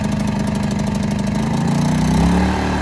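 A Champion 2000 inverter generator runs after a pull start. Its engine hums loudly and steadily nearby, with a slight rise in pitch toward the end.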